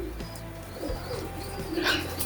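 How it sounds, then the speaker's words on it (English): Pigeons coo close by after being startled, soft low rolling calls in a quiet room with faint chirps. "I think I scared the pigeons."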